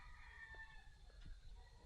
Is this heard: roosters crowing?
yes